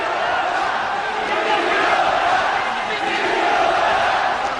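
A boxing arena crowd roars steadily throughout a fight between Brian Viloria and Carlos Tamara, a dense wall of cheering and yelling with commentary voices over it.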